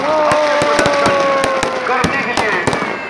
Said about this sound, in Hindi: आतिशबाजी का